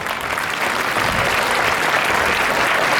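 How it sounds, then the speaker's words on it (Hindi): Loud applause at a Vardhana Group function, a thick continuous roar of clapping from a large audience that holds steady and strong throughout. "जोरदार तालियां होनी चाहिए ऐसे भाव से."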